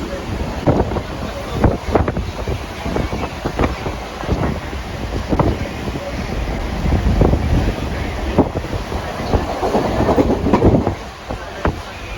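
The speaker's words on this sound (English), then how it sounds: "I'm on the train now." A train runs with a steady rumble and wind buffeting, punctuated by irregular clunks and rattles, while a voice speaks faintly now and then.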